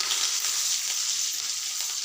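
Okra pieces and curry leaves frying in oil in a pan, giving a loud, continuous close-up sizzle with no voices over it.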